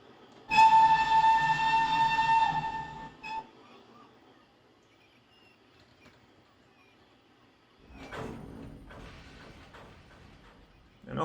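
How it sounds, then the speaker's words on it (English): A steam locomotive whistle in the Trainz 22 railway simulator gives one long, loud toot of about three seconds, then quiet with faint mechanical sounds before a brief burst of rumbling movement. "let's give ourselves a toot on the whistle"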